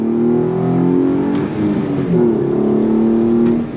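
2013 Hyundai Genesis Coupe 3.8 Track V6 engine revving on throttle, a loud, close, steady growl that climbs in pitch, dips briefly mid-way, then climbs again.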